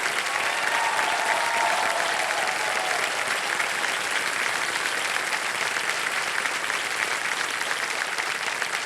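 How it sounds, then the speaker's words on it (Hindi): Sustained applause from a TV quiz show studio audience, a dense, even wash of many hands clapping at steady loudness throughout, no voices. "तालियां बज जाएं इनके लिए"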